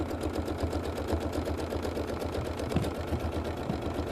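A sewing machine quilting through a stenciled quilt runs in a steady, fast mechanical patter with dense repeating clicks, loud and close throughout with no pauses.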